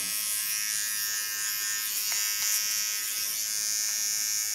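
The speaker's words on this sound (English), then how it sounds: "These are the ceramic blades of the T.K.S clipper." A T.K.S electric hair clipper with ceramic blades hums in a steady, high-pitched buzz while trimming hair close by, with a few faint clicks as it moves through the cut and no talking.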